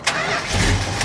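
A 1970 Plymouth Superbird barn find, parked since 1975, fires up: a brief loud cranking burst catching into a deep engine roar, close by.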